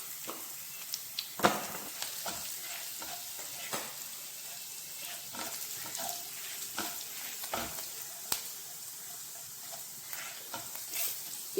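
Green chili and turmeric fry quietly in a pan, with a faint, steady sizzle broken by occasional spatula taps and scrapes. No one speaks.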